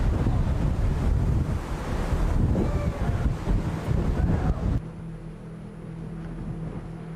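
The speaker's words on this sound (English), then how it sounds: "As the tornado approached the interstate, it passed within 250 yards of Tammy, her daughters, and Carter." Roaring wind from the F5 Bridge Creek–Moore tornado in Oklahoma in 1999, a loud, steady, broadband rush with microphone buffeting that drops to a lower, duller rumble near the end; no talking.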